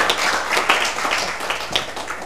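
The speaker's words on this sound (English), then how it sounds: "thanks for the preliminary round of applause" Scattered audience clapping after a lunch talk on the ecosystem marketplace, made of distinct hand claps at an uneven rhythm, fairly close and moderately loud, with no talk.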